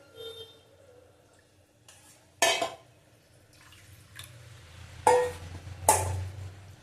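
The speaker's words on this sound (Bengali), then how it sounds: "বাটি ধুয়ে একটু জল দেবো।" A bowl rinsed out and its water tipped into a cooking pot of milk chicken, a few sharp splashing pours and clinks separated by quiet gaps, close and fairly loud.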